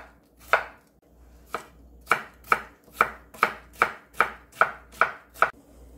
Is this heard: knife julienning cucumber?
yes